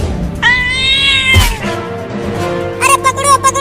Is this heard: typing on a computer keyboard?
no